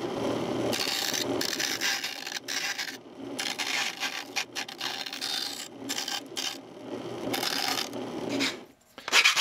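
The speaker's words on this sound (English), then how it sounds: "I'm going to use my disc sander to round them down to the lines" A disc sander grinds and rasps against wood in repeated bursts, rounding pieces down, the pitch and loudness shifting as pieces are pressed and pulled away.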